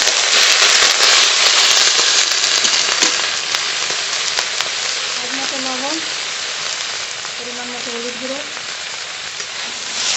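Freshly cut, washed broccoli hitting hot oil just after the spices are tempered: a loud, dense, continuous sizzling hiss with scattered crackles that eases slightly over time, with a brief faint voice-like tone in the middle.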